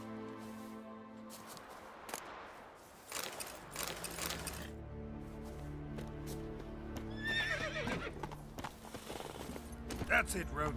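Roach the horse in Witcher 3 lets out several whinnies over a backdrop of game sounds, with clip-clopping hooves and faint mechanical clatter, moderately quiet, a voice briefly heard.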